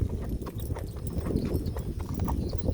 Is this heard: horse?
yes